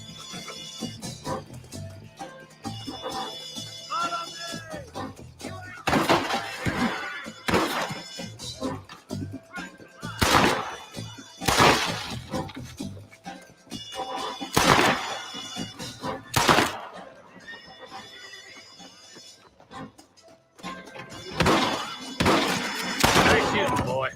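Gunfire in the Western video game Red Dead Redemption, several sharp loud shots scattered over a gameplay scene with character dialogue and background music throughout.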